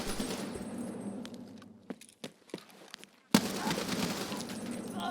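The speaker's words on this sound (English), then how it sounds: "shooting the M60 is a natural stress reliever" An M60 machine gun fires in Escape From Tarkov, a dense rattling volley at the start that thins into scattered cracks, then a loud burst resumes and holds steady to the end.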